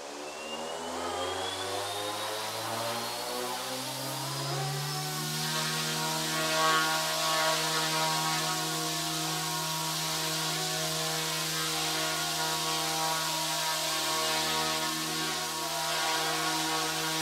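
Mikado RC helicopter with an S2 Ultra controller spooling up and then hovering, its electric motor whine rising steadily in pitch before settling into a loud, steady tonal hum with rotor buzz, no voices.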